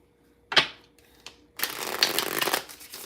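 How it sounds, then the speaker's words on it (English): Tarot cards being shuffled in short bursts: one quick riffle, a faint tap, then a longer continuous shuffling run, close up and alone with no talk. "Two more shuffles off the top of the deck."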